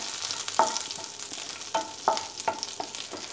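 Curry leaves hit hot oil in a pan, producing a soft steady sizzle broken by several sharp crackles and pops as a spoon stirs, close by and with no voices.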